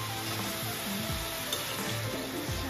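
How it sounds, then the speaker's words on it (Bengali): Cauliflower pieces frying in hot oil in a home kitchen, giving a soft, continuous sizzle with faint stirring and clinks of the pan. "এখানে ফুলকপিটা ভাজা হচ্ছে।"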